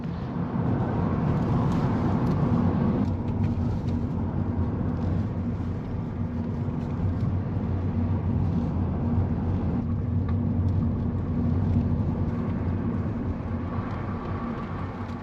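A car climbs a mountain road through the Angus hills, its engine and tyre rumble holding steady and fairly loud throughout, with no voices.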